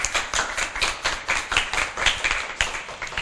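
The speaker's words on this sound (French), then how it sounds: "Donc on applaudit Lucie, hein, tout de même." A small audience claps steadily for a child who has just presented a book, giving a close, even patter of hand claps with no voices over it.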